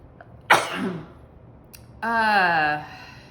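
A single sharp sneeze bursts out, followed moments later by a drawn-out vocal sound, close and fairly loud in a quiet room.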